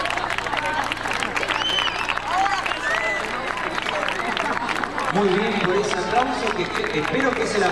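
Audience applause at a school Pentecost celebration, a dense steady patter of many hands lasting throughout, with voices and crowd chatter mixed in and a swell of louder cheering and talk toward the end.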